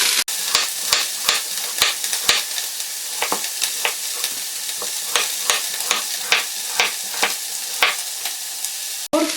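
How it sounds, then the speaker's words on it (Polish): Leek and onion sizzling in a frying pan, with a steady crackle and repeated scraping knocks of a utensil stirring them, close by. "jak por się będzie smażyć z cebulą"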